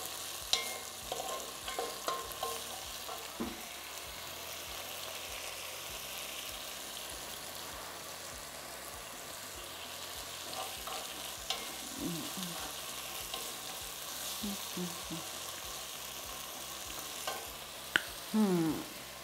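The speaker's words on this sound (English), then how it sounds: "then I'm gonna add in my eggs, sprinkle some dhania" Eggs fry with a steady, close sizzle in a pan seasoned with dhania, crackling continuously with a few small clinks of a utensil near the end and no talking.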